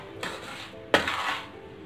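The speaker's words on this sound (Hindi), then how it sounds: "चलिए इसको हम एक बोल में खाली कर लेते हैं क्योंकि ये बनके बिल्कुल रेडी है।" Boora sugar being emptied from a metal pan into a bowl, with two distinct clinks and scrapes of the pan against the bowl amid a soft, granular pouring rustle.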